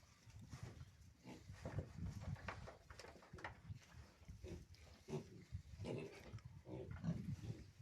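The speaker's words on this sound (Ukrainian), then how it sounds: "тут якісь свині є" Mangalica pigs grunt and snuffle continuously at a low, quiet level, with overlapping rough grunts from several animals on a farm.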